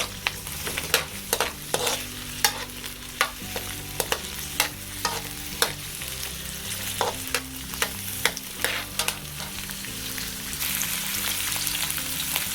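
Chopped onion and garlic sizzle in a pan while a spoon stirs them, giving a quiet, continuous fry with sharp, regular clinks and scrapes against the pan every second or so, and no voices.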